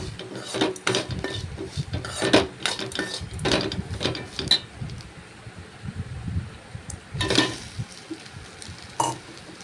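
A spoon scrapes and clinks against a pan while grated coconut is mixed with onion and garlic, giving irregular, close metallic clatters and stirring scuffs with a faint sizzle underneath.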